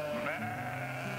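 A Dorper sheep on a breeding farm gives one drawn-out, wavering bleat, clear and fairly close, over a quiet farm background with no talk.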